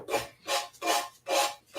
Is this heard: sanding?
yes